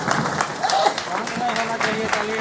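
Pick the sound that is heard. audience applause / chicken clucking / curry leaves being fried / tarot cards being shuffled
audience applause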